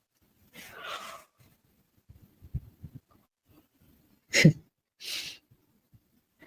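A single drawn-out, breathy yawn comes close and clear, followed later by a couple of sharp breathy exhalations, with no talking over it.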